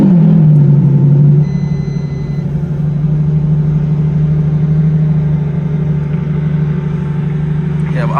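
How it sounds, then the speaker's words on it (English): A Lamborghini Revuelto V12 hybrid starts with a loud rev that settles into a steady, deep idle heard from inside the cabin, with a faint whirring rising near the end. "Go ahead and turn on the engine."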